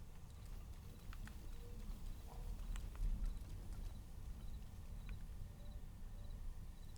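Steady clip-clop of horse hooves on ground in a video game, a continuous walking rhythm under low ambient rumble, with no voices.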